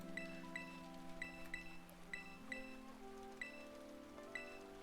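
Rain falls in the Pokémon Violet video game, a soft steady patter with repeated droplet plinks, mixed under sustained game music tones, faint with no talking.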